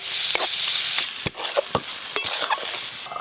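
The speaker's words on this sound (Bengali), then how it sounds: "মশলা বেশ ভালো করে কষে নিয়েছি।" Spice paste for a prawn fritter curry is stir-fried in a pan, loud scraping strokes from the spoon breaking up a steady sizzle in an irregular rhythm, close up and with no talking.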